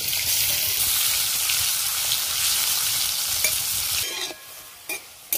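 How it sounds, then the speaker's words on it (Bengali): Bitter gourd (karela) pieces frying in oil, a loud close sizzle that holds steady, then briefly quiets and returns in bursts as the pieces are stirred, with no talking. "এই করলাগুলো একটু ভেজে নেবো ভালো করে।"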